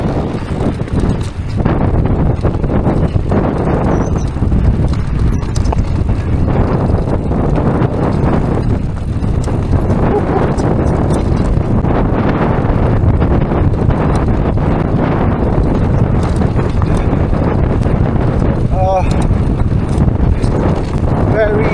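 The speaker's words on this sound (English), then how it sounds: "Very windy." Strong gusting wind buffets the microphone on an exposed Welsh hillside, a loud continuous roar with rough surges, mixed with faint rustling and occasional indistinct voices.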